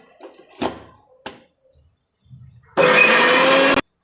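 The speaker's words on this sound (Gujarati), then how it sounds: "હવે આને આપણે ક્રશ કરી લઈશું" An electric blender crushes amla chutney in a loud, steady burst lasting about a second, following a few quiet knocks and handling sounds in a kitchen.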